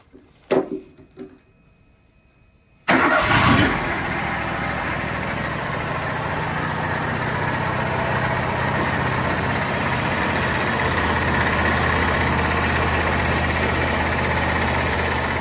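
A sawmill engine, briefly run after oil is added during maintenance, rattles a few times, then catches suddenly and settles into a loud, steady, close running drone that lasts to the end.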